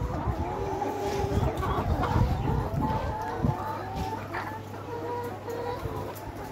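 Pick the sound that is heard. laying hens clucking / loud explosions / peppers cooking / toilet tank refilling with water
laying hens clucking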